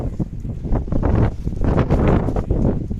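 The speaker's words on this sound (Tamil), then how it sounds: "தூசும் காற்றும் எந்த அளவுக்கு நிற்கி பாருங்க சரியான காற்று" Strong wind gusts roar steadily across an open seaside spot, kicking up dust, with loud buffeting on the microphone and a broad, turbulent rush throughout, no voices present.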